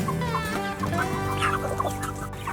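A flock of Cornish Cross meat chickens clucks and murmurs constantly nearby, overlapping low throaty calls forming a busy, steady chatter.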